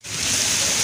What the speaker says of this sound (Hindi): ये देखें बहुत तेज़ बारिश हो रही है हवा के साथ।